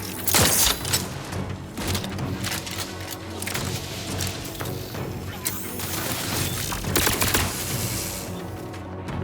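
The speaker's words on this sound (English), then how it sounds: "Grenade outbound." Grenade blasts and crashing combat noise from the video game The Outer Worlds 2 come in loud, rapid bursts, with booms and cracks piling up over a constant roar of battle.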